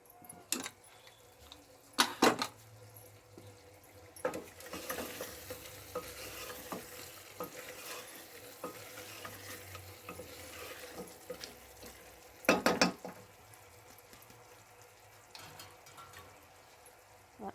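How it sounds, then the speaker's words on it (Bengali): Meat with biryani masala sautés in a pot with a soft sizzle, while a spoon stirs and scrapes in irregular bursts, with a few louder clanks against the pot. "তো বিরিয়ানি মশলা দিয়ে আমার কষানো হয়ে গেছে মাংসটা"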